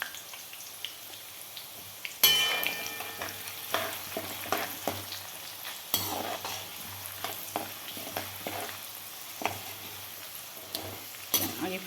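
Chooda seasoning with turmeric fries in a pan over a low gas flame, a crackling sizzle with many sharp pops and stirring clinks that turns suddenly louder after a couple of seconds, with no talking.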